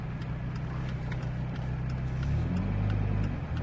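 A Dodge Viper's engine rumbles steadily and loudly while driving, with a deep low drone that swells slightly toward the end and no talking.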